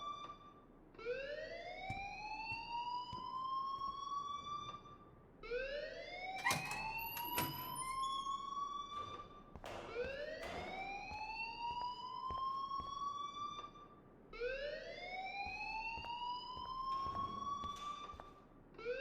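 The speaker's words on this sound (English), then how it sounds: "please turn off that alarm since that's your job" An alarm sounds in the video game Life is Strange, repeating rising electronic whoops in a steady cycle, each sweep climbing then cutting off and starting again, loud and continuous with no talking.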